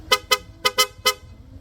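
A PIA horn fitted to a Honda Click V3 scooter gives five short, loud, bright toots in a quick, uneven rhythm, close by and clear, with no talking.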